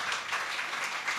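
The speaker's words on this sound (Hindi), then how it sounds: "मेरी गुजारिश है कि इनके लिए भरपूर तालियां हो जाएं" Audience clapping at a mushaira poetry gathering, a steady, fairly loud wash of many hands applauding together throughout, with no voices.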